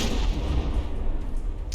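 Naval artillery shells strike a battleship turret in the From the Depths naval combat game, heard as a dense, continuous rumble of heavy gunfire and booming impacts, loud and sustained throughout with no talk.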